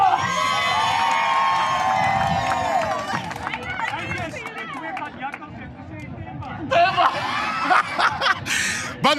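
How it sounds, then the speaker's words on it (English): A crowd at an outdoor policing pledge launch in Delft claps, cheers and shouts, with children's excited voices rising above the noise in bursts that swell again near the end. "Can everyone here give a round of applause to Gunya?"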